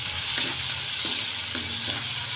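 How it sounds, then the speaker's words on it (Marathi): Chopped onion frying in hot oil with reddened garlic for a fenugreek dish: a steady, close sizzle with occasional soft scraping as a spoon stirs the pan, continuous and without talk. "आपल्याला कापलेला कांदा टाकून घ्यायचा आहे. तो पण चांगला तेलात परतून घ्यायचा आहे."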